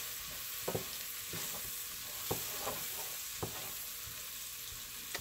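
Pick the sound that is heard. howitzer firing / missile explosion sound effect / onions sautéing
onions sautéing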